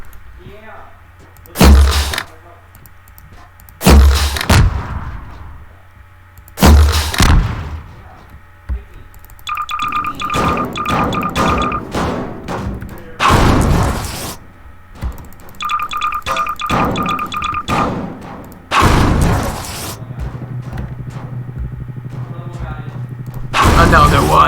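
Gunfire and explosive barrels blowing up in Garry's Mod, several sharp loud bangs spaced apart, with stretches of humming and crackling fire between them.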